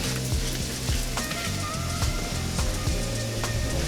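Keto creamed spinach with seasonings cooking in a pan, a loud, continuous close sizzle with faint stirring and some music-like tones beneath it.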